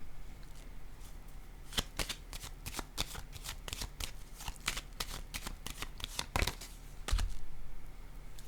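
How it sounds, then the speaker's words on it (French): Tarot cards are shuffled and laid down on a table, with a run of quick, crisp papery flicks and snaps at an irregular rhythm that stay close and moderately loud throughout. "Je vais déposer une carte ici."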